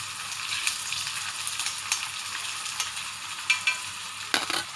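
Sliced onions and four slit green chillies frying in mustard oil are stirred in a pan: a steady close sizzle runs throughout, broken by a few soft scraping knocks of the spoon toward the end, with no talking.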